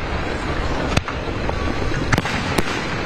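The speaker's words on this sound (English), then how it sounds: "The sound of fireworks filled the 4th of July sky" Distant Fourth of July fireworks pop sharply three or four times over a constant windy rumble, with irregular gaps between the bangs.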